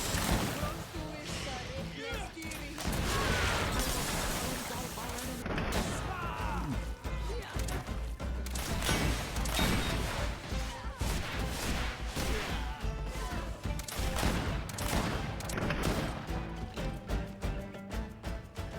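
Gunfire in the Greedfall video game, with repeated sharp cracks and impacts mixed into dense combat noise and game music, under a player's talk.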